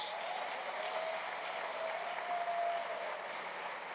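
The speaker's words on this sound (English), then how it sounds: "We also need to give a huge round of applause to our panelists." An audience at a schools address applauds its panelists, a steady, even wash of clapping that fills the space for several seconds, heard from a little distance.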